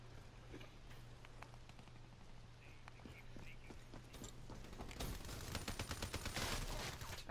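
Rapid gunfire rattles in a video game shooter, faint distant shots at first that build into loud, dense bursts of automatic fire in the final seconds, with no talking.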